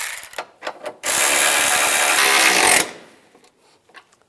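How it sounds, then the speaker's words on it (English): A power tool tightens headlight bulb screws on a Cadillac DTS: a few short clicks, then a loud, close whirring burst of about two seconds that stops sharply, followed by faint handling noises. "Now just put the headlight bulb screws back in and tighten them down."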